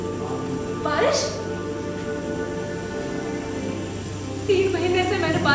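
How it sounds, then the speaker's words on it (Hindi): Steady rain falls throughout, a continuous soft patter with a voice talking over it. "3 महीने से मैंने बारिश की आवाज तक नहीं सुनी।"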